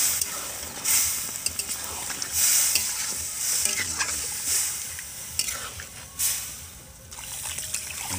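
Fried potato and carrot are stirred into a khichuri pot, giving a bright sizzling hiss that swells and fades in waves with each push of the spoon, plus some wet scraping.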